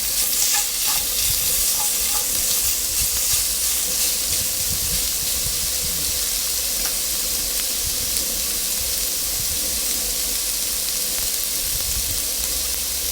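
Pork belly stir-fried in oil in a pan for a Thai curry with watermeal, giving a loud, steady sizzle and hiss with scattered stirring scrapes throughout, and no talking.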